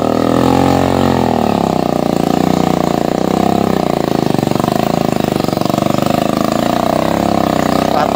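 A motorcycle engine labours along a muddy road, its close, loud mid-pitched chug running steadily throughout with slight shifts in revs as the bike pushes through thick mud.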